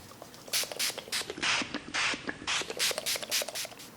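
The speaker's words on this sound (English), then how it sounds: "as soon as I spray my face with the rose water spray" Mario Badescu rose water facial spray pumped repeatedly, a rapid run of short, sharp misting spritzes in quick succession, close and fairly loud with no talking.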